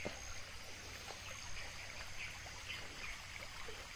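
Steady rushing water from a nearby stream, a continuous broadband wash with no voices.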